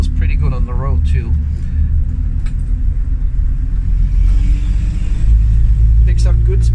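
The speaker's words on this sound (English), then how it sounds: "We're in second gear. We're just gonna go around the dealership." A 1961 Willys Jeep Wagon 4x4 engine rumbles steadily in second gear at cruising speed, with low road noise throughout and a voice talking over it.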